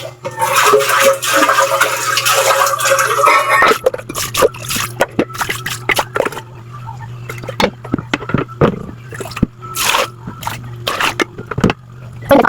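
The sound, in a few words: washing a cooking pot with water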